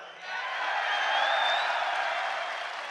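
A crowd at a UFC 284 pre-fight press conference applauds and cheers, a dense, sustained roar of clapping and voices that swells after a brief quieter start and holds steady throughout.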